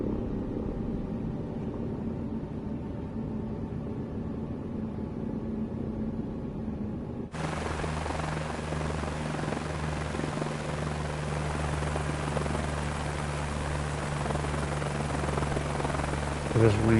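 A helicopter in Microsoft Flight Simulator spools up for takeoff, quiet cockpit hum first, then a sudden loud, steady rotor and engine roar that holds to the end.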